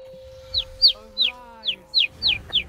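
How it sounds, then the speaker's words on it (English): Bird calls in the World of Warcraft Argus raid fight: seven sharp, high chirps in a quick, steady series, loud and close, over a low hum and a steady tone. "There's bird noises, but there's no birds."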